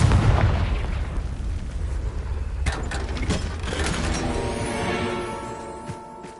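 A Confringo spell blast erupts in Hogwarts Legacy, a loud booming explosion at the start that rumbles and fades into crackling debris and a lingering magical shimmer, with no talk over it.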